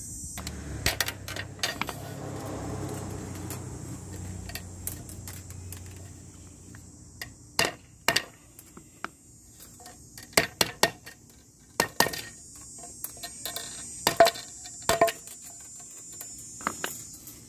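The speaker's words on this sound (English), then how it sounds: "I'm gonna put it on a piece of wood and I will try to hammer it" Sharp metallic taps ring out irregularly as a hammer straightens wire on a piece of wood, single knocks and quick pairs of strikes, with a steady low hum early on and quiet gaps between blows.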